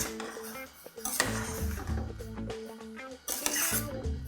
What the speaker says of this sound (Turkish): Kaynayan suyun içerisine kuşkonmazlarımı ekliyorum.